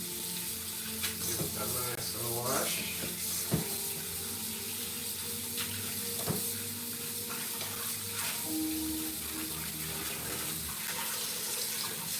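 Tap water runs steadily into a sink while sea moss is washed, a continuous close splashing wash with occasional clunks and handling sounds.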